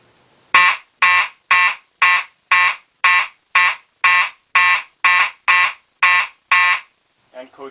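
A Simplex fire alarm in march time code: a loud, harsh horn pulses in a steady, quick rhythm of about a dozen evenly spaced blasts, then stops, with faint speech afterward.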